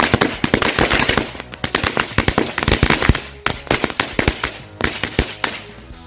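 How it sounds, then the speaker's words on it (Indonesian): Assorted matchstick firecrackers go off in rapid irregular bursts, dozens of sharp close cracks and pops overlapping like gunfire, set off on a Ramadan night. "ini kita nyalain berbagai jenis mercon korek yang udah kita susun"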